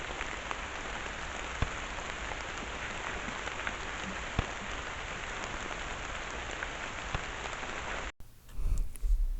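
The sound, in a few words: rain falling, recorded by Coolife BST880 trail camera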